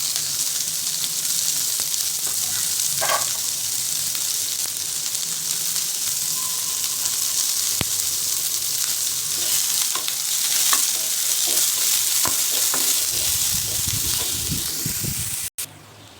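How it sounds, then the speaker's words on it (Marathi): Chopped onion and green chili fry in a pan with a constant loud sizzle and hiss, with a few stirring clicks and a bump near the end, no talking. "तर आता कांदा छान परतलेला आहे."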